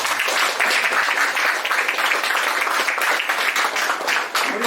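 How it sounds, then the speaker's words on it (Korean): A crowd at a year-end history institute gathering and awards ceremony applauds steadily and fairly loudly throughout, dense clapping with no voice over it. "한번 박수 한번 부탁드립니다."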